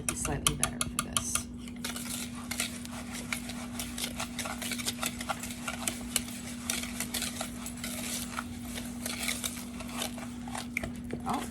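A long, skinny French-style whisk beats cake batter in a bowl with rapid, steady metallic scraping and clinking, close and continuous, under a constant low hum.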